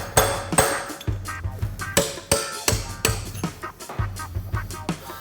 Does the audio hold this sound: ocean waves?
no